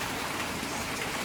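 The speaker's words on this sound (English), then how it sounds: "Because it's heavy rain, right?" Heavy rain pours in a dense, continuous hiss on Koh Samui, steady and close with no breaks.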